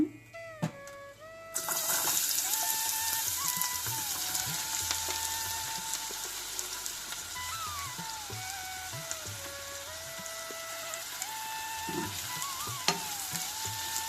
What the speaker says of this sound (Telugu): ఇప్పుడు ఉల్లిపాయలు, పచ్చిమిరపకాయలు వేసుకుందాము.